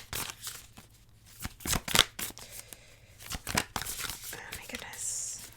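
Tarot cards being shuffled by hand in a series of crisp, close riffling and flicking bursts with short pauses between them, ending in a softer rustle.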